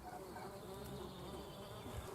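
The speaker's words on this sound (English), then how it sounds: "Brilliant to see so much life now, all these different bees coming and going." Solitary bees buzz around wooden block nests outdoors, a steady close hum of several insects coming and going with no break across the moment.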